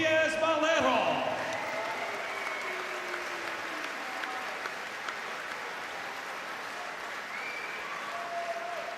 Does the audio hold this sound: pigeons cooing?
no